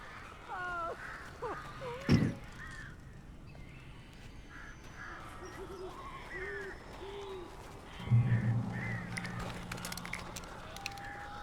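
Crows caw repeatedly in the Alan Wake video game, loud and close in short harsh bursts, with a heavy thump and a low rumbling hit breaking through the calls.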